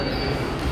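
Aboard an Ahmedabad metro train, a loud, steady rumble of running wheels and car noise carries on briefly, with no voices heard.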